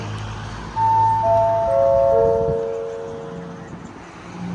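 A train horn sounds in a few sustained, stepped tones over low rumbling engine noise, which then fades as Thai train 251 pulls away from Ban Pong station.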